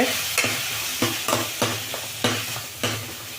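Tomatoes frying in a hot pan with roasted cumin and pepper, a steady loud sizzle broken by regular scraping stirs of a spoon roughly every half second.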